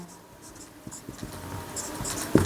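A pen writes an answer by hand on paper during a Class 10 maths trigonometry lesson, producing light scratchy strokes and taps in an uneven rhythm, close and fairly quiet, ending in a sharper tap.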